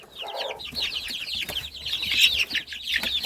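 Chicks and chickens cluck and peep close by, a busy run of high chirps mixed with lower clucks and some wing flapping, with no talk over them.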